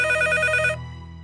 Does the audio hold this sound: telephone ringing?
yes